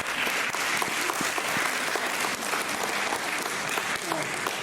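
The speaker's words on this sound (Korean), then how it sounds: "우리 초등부, 중고등부 또 우리 청년부 크게 우리 격려의 박수만 하겠습니다." A congregation at a Korean church Christmas service in Berlin applauds the children's, youth and young adult groups with loud, continuous clapping that fills the room, with some voices mixed in.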